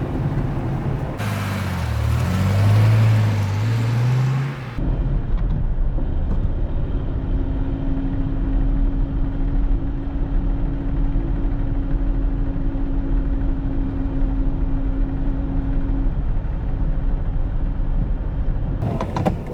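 A Mercedes 220 S Cabriolet Ponton from the 1950s cruising steadily, its engine a continuous low drone with a faint tonal whine and road rumble, preceded by a brief louder burst.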